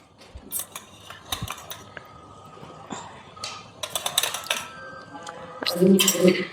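Spices, including coriander powder and chicken masala, are stirred into chicken for biryani, with metal spoon clinks and scrapes against the pot coming in bursts while a voice talks faintly.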